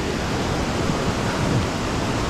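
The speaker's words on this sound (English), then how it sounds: "I don't know if you can see the water running, but it sounds pretty heavy." Heavy rainwater runs during a major winter rain storm on Mt Washington, a dense, steady rushing roar like a torrent that continues without a break throughout.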